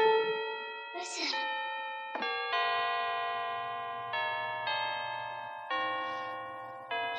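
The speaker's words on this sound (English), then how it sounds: "And then the whole Bradley family stops as the church bells start to play." Church bells ring near midnight on Christmas Eve, with a series of clear, sustained tolls overlapping and decaying one after another. A voice is briefly heard near the start.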